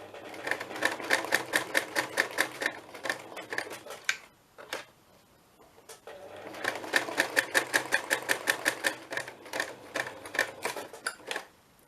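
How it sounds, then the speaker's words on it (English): Fast, rhythmic mechanical stitching from a sewing machine sewing paper, stopping for a moment with a couple of clicks before resuming a loud, even run. "My machine is quite noisy, so I do apologise."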